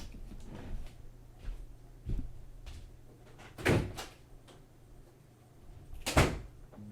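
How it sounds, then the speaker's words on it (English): An office door opens on the far side of a room and desk chair wheels roll nearby, heard as several separate thumps and clunks with a couple of sharper knocks, fairly close and with no talking. "you should hear the wheels of my chair move. You'll hear the door opening on the other side over there"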